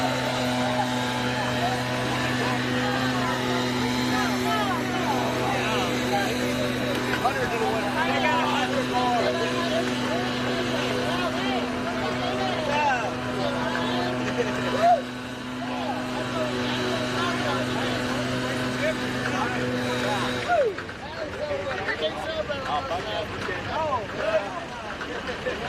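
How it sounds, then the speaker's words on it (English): At a drag race on the final bracket day at Houston Raceway Park, a race car's engine with a loud supercharger blower runs at full throttle, a steady droning roar that continues for a long stretch with people talking over it before it drops off. "That freaking blower's so loud."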